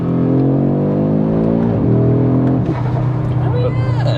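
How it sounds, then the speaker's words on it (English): A 2022 Audi RS3 8Y pulls hard under acceleration, its loud, close intake and engine note climbing in pitch through the gears with brief dips at the shifts, while someone talks over it. "That intake sounds brilliant, doesn't it?"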